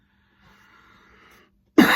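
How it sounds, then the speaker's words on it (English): Faint murmuring gives way to a sudden, loud single cough right up close at the very end. "Apologize for the cough."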